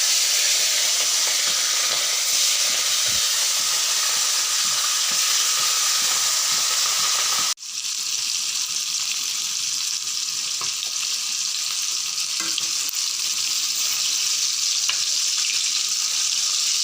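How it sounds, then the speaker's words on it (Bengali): Pieces of rui fish frying in hot oil, a loud steady sizzle and hiss from close by, with a sudden break partway through and a few faint taps after it; no speech. "প্রথমে মাছগুলো আগে ভেজে নিব।"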